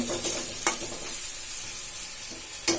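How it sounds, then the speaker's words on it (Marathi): Onion frying in a pan with turmeric and salt, stirred with a few scraping strokes against the pan over a steady sizzle, close and moderately loud, no talking. "आता मिक्स करून घेऊया बघा कांदा भाजत आलेला आहे"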